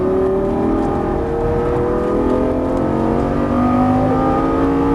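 A Lamborghini Gallardo LP550-2 accelerates hard on a race track, its engine note climbing in steady rising tones, loud and close, over continuous road and wind roar with no talk.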